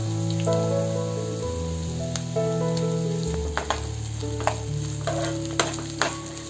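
Three-quarters of a cup of chopped capsicum fries in a pan for a variety rice dish, giving a steady, close sizzle broken by a few sharp clinks and stirring knocks.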